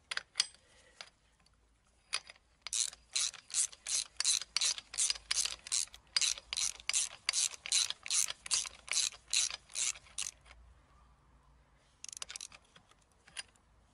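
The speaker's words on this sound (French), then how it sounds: "desserrage de l'écrou de 29. Je retire mon écrou de 29." A ratchet wrench loosens and removes a 29 mm nut from the pivot of a Citroën Traction 11 during drum and driveshaft removal. It gives a long run of loud, rapid, even clicks, then a pause and a final short burst.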